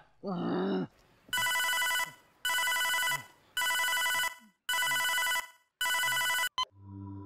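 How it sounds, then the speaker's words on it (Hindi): A telephone rings in five long, evenly spaced bursts, loud and close, after a brief low sound at the start; a short voice follows at the very end. "पीएम से फोन आया है।"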